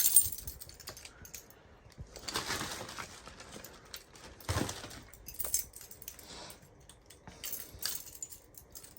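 A bunch of keys jangles and clinks in short bursts as a door to an attic is unlocked, faint and close, with scraping and metallic rattles between quieter pauses.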